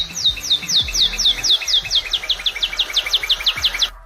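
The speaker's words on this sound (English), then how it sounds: "That right there is a northern cardinal." A northern cardinal sings a fast, loud series of clear, repeated downslurred whistles, about two dozen evenly spaced notes delivered close by before stopping abruptly.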